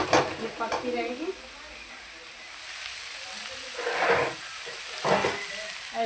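Cut potatoes are tempered in hot oil over a gas flame, giving a steady frying hiss with a few brief stirring swells. A high whine runs under it, and a person talks over it.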